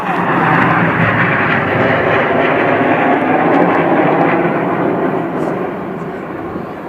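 Display jets of a synchro pair roar past at an airshow in Sunderland, a loud, steady broadband engine rush that holds for several seconds before easing slightly as they pull away.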